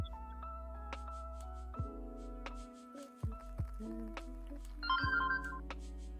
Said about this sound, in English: What was that? That's my phone.